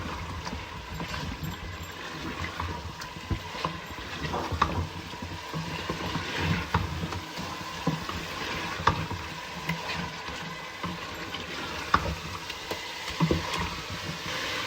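Ginger garlic stirred into chicken frying in a pan for a white karahi, with a steady sizzle and scraping stir sounds running throughout, close and moderately loud, no one speaking.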